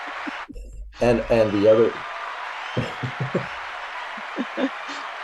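A canned applause effect triggered from a sound button plays as a steady crowd-clapping wash under talk on a business podcast, with voices speaking over it throughout.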